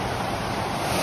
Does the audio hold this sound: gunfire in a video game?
no